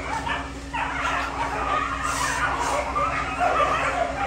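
A rescued dog whimpers and yips amid continuous outdoor background noise with a passing car hum, the small cries faint and intermittent over a steady wash of sound.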